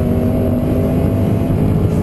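Noble M600 supercar at full throttle on the Nurburgring straight in fourth gear, a loud, dense, unbroken engine roar heard close from onboard, with no talk over it.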